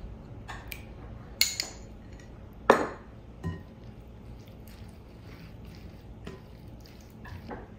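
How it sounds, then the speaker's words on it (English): Burrito filling gets mixed with salsa in a bowl, with a spoon giving a few scattered, faint clinks and one sharper knock against the bowl over a quiet background. "Mix it all together"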